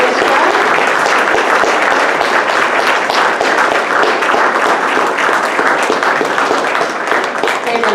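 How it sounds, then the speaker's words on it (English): Audience applause for school orchestra students at a 6th–8th grade spring concert, dense sustained clapping from a crowd, loud and steady throughout. "give a huge round of applause to these students for all of their dedication to orchestra"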